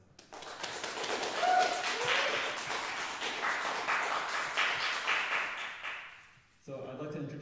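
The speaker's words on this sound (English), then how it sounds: "let's give a round of applause to welcome our panelists." A roomful of people applauds to welcome panelists at a concert-and-discussion event, with a full, steady burst of clapping that swells quickly, holds for about six seconds and fades, followed by a voice speaking.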